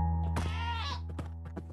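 A screaming goat in the video game Minecraft lets out one loud, harsh, drawn-out bleating scream over a steady low game hum, followed by a few short clicks and thuds.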